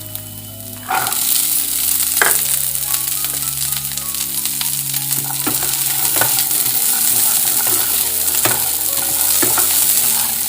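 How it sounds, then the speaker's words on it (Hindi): Green peas dropped into sautéed onions and frying in a pan, a loud continuous sizzle after an initial quiet moment, with intermittent spoon scrapes and clicks throughout. "अब मैं इसमें डाल दूंगी मटर।"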